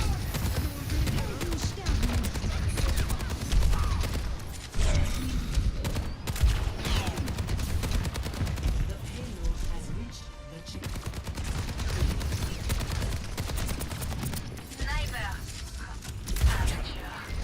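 Automatic gunfire in Overwatch 2 as the fire button is held down: sustained rapid shots that run almost the whole time at steady loudness, with a voice talking over them.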